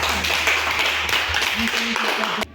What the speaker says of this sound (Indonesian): Sekali lagi kita tepuk tangan untuk kita.